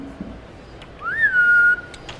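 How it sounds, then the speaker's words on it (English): Someone whistles a single rising then steady clear note lasting under a second to call a pet lizard at feeding time, loud and close in a quiet room with no talking. "We actually have her trained where I whistle"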